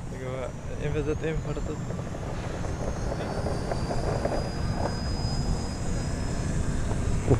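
Small RC model airplane, an odd E-shaped design, flying at an easy cruise with a steady electric motor whine and faint high tone, continuous throughout under people talking nearby outdoors.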